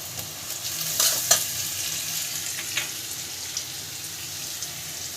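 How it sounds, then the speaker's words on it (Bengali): Onions frying in mustard oil in a wok with salt added, a steady close sizzle with a few sharp stirring scrapes and clinks near the start, no voices. "আমাদের পেঁয়াজগুলো মা একটু ভাজা ভাজা করে নিয়েছে একটু নুন দিয়ে দেবো"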